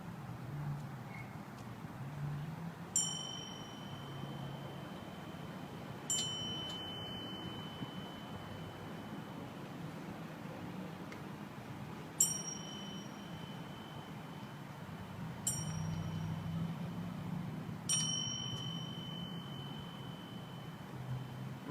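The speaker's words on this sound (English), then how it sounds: "the bell is rung for each of the branches of service" A ceremonial bell at a POW/MIA ceremony at a veterans resource center in Amarillo, Texas, struck five separate times, one ring for each military branch, each clear metallic ring decaying over a quiet room hum, spaced a few seconds apart.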